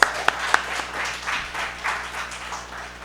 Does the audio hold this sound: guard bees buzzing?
no